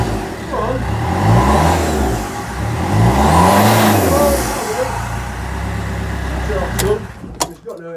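A rebuilt Fiat Doblo engine cranks, catches and runs, revving up and down in a few loud sweeping bursts before settling and cutting off near the end, with people talking over it.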